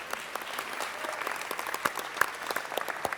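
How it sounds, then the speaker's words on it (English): Applause in a Los Angeles city council chamber on a Friday morning, a steady, moderately distant patter of many hands clapping alone, with no talk. "Let's give everyone a round of applause for being here on a beautiful Friday morning."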